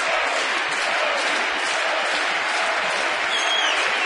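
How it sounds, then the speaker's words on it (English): An Orioles home baseball crowd roars in a dense, steady wash of cheering and clapping, loud and continuous throughout, with no distinct chant words standing out. "the Oriole crowd chanting Koji"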